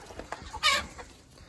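Chickens out in a yard eating grass give soft, scattered clucks, with one louder, fuller cluck partway through, all close by over a quiet outdoor background.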